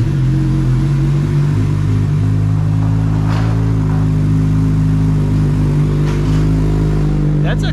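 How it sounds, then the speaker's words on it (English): A 2022 Suzuki Hayabusa motorcycle fitted with an aftermarket eBay exhaust idling after a cold start, a loud steady rumbling drone close by with a few light blips, no talking over it. "let's fire this thing up and see how this exhaust sounds"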